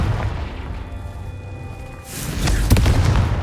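Confringo spell blast in Hogwarts Legacy, a sharp boom after a quieter magical hum, followed by a loud crackling burst and a few quick impacts near the end.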